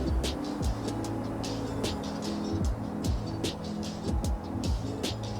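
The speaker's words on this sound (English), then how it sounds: "Just listen to the cars in the distance." Traffic hums steadily from distant roads below a late-night hilltop lookout in Abbotsford, British Columbia, a continuous low engine drone with faint passing swells and no voices.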